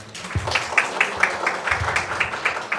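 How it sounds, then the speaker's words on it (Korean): An audience at a Hwaseong city participatory budget committee general assembly applauds, a steady wash of many hands clapping at close range, continuing evenly throughout without speech. "여러분들 큰 박수 부탁드립니다."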